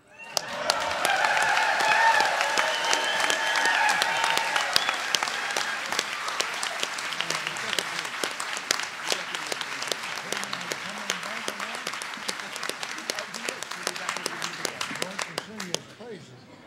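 Applause from a Tribal Nations Conference audience honoring Joe Medicine Crow bursts in loudly, holds as a thick round of clapping, then thins to scattered individual claps as a voice speaks over the fading end.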